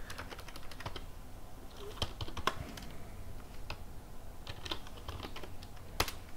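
Steady typing on a computer keyboard, a rapid run of light, close key clicks with occasional sharper taps, heard alone without speech.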